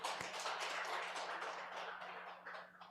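A church congregation claps in steady, dense applause that stays fairly faint and even throughout, with no talking over it.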